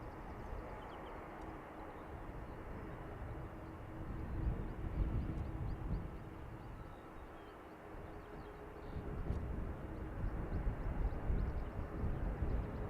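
At Dublin Airport's north runway, an arriving aircraft makes a broad, steady jet roar that swells and eases slightly over time, heard from a distance with no voices.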